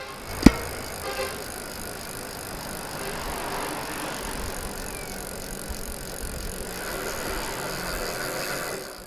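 Rear wheel of a 2022 Shadow Zion 1.2 mountain bike with Novatec alloy cassette hubs, sealed bearings and 32 spokes, freewheeling with a steady close whirring buzz after one sharp click at the start.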